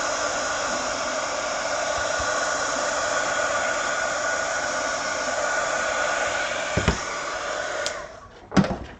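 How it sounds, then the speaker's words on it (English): A heat gun blows hot air onto shrink wrap around a flask, giving a steady, close whooshing hiss that cuts off near the end, followed by a couple of quick handling knocks. "we'll put your heat gun on it for a second."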